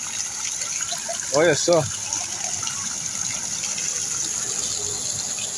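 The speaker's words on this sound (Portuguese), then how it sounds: "A fonte é feita de uva." Red grape juice runs from a fountain at a roadside grape house on highway BR-364, a steady gushing flow heard nearby while a person speaks briefly over it.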